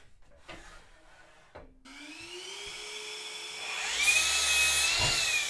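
A power saw cuts 2x3 timber supports: a few scattered knocks first, then the motor spins up to a steady whine and bites loudly into the wood near the end.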